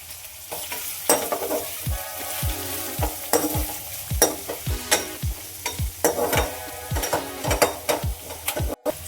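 Three chopped onions tipped into hot oil with curry leaves in a pan sizzle loudly and steadily, a spoon stirring and scraping against the pan again and again, close up with no voices.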